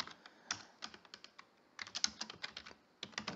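Code being typed on a computer keyboard: quiet, close keystrokes in irregular bursts and clusters separated by short pauses, with no voices.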